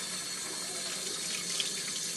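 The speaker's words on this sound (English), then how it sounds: "rinse off all the soap, and let's see." Tap water runs steadily as soap is rinsed off hands at a sink, a continuous soft hiss with no break and no voices over it.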